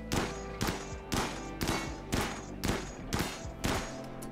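Gunfire aimed at a ship in the game RimWorld: a regular series of eight heavy, booming shots about half a second apart, each with a short rumbling tail, with no other sound between them.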